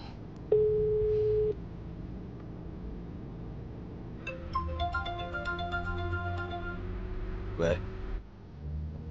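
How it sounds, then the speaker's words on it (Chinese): A telephone ringback tone on a speakerphone call, a single long beep followed by a sequence of repeating electronic tones, fairly faint and close, with voices talking around it. "给你孙子打电话？"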